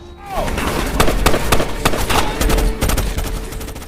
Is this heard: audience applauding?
no